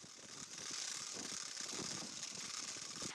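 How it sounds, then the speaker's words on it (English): Wooden rattles clatter in a fast, continuous ratcheting rhythm at an Easter Judas-burning village custom, loud and close throughout with no speech. "The Judas is then symbolically burned, with carolers rattling and singing."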